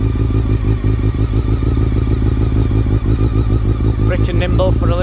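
Honda CBR 600 F4 motorcycle from 1999 fitted with a Delkevic exhaust, its engine rumbling steadily and close throughout with a mechanical clatter, while a voice talks over it.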